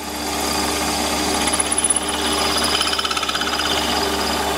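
A power drill grinds steadily, boring a 9.4 mm hole into metal, a continuous harsh whirring with rattling vibration and slight rhythmic surges, close by with no talking.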